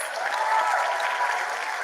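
Steady crowd applause rises for the top matric learner at a national education results announcement, a continuous wash of many hands clapping at moderate distance, with no voices over it.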